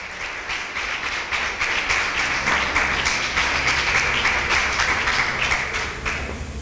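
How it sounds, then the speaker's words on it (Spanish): A church congregation applauds during a sermon, a dense, even wash of many hands clapping that holds steady throughout without any talk over it. "Dale un aplauso si lo crees"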